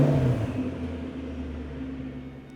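A 2005 Ford GT engine pulls away from a standstill, a loud, close low rumble and rev that gradually settles into a steady drone, with no talking.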